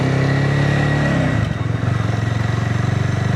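A BSA Bantam 350 motorcycle engine runs close by, a steady throbbing single-cylinder thump that dips briefly as the revs change, then settles into an even pulsing idle.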